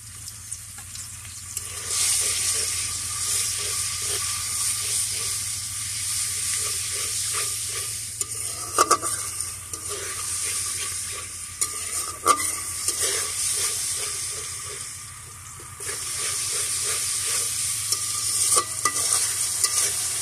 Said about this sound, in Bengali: এখন আমি তেলের সঙ্গে দিয়ে দিব, এখানে আছে পেঁয়াজ বাটা, রসুন বাটা, আদা বাটা, জিরা বাটা।